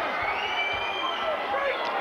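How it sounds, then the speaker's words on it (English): Boxing arena crowd cheering and murmuring at a fight, a steady, fairly distant roar that holds level throughout without sharp peaks. "The crowd appreciating it."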